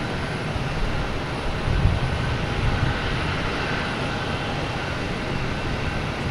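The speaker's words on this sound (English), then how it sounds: "we have an American Airlines coming in, an A319 coming in from Reagan" American Airlines Airbus A319 jet arriving at Boston Logan Airport, a steady broadband engine roar from the approaching aircraft, moderately loud and continuous with a slight swell near the start.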